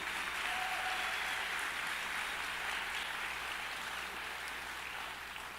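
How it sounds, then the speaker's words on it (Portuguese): Church congregation claps in sustained, dense applause, a steady even wash of many hands that tapers slightly at the end, heard from a distance. "Palmas a Jesus,"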